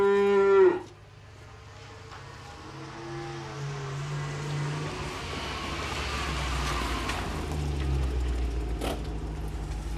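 A cow on a farm gives one loud, short moo at the start, followed by a low rumble of engine or vehicle noise that continues in the background.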